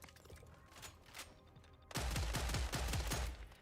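Gunfire from a weapon in the video game Killing Floor 3: quiet game ambience, then an abrupt, loud, rapid burst of repeated shots with heavy low-end thumps, sustained for over a second.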